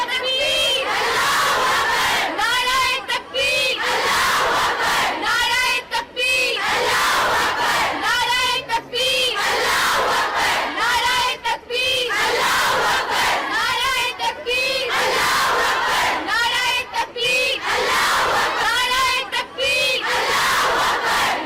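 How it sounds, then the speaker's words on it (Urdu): A large crowd of female students chants Allahu Akbar slogans at a protest, rhythmic shouted calls repeating in regular bursts for the whole stretch, loud and close with no other talk. "اس موقع پر فضا اللہ اکبر کے نعروں سے گونج اٹھی۔"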